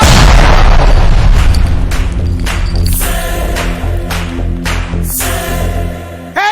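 A bomb blast in a Telugu action film scene, a loud booming explosion with heavy low rumble, followed by further crashes and bursts as debris and effects ring out, with little speech.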